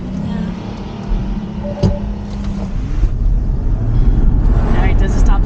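Tesla electric car accelerating hard from inside the cabin, a steady low road and motor rumble swelling louder over several seconds, with a passenger's voice briefly over it.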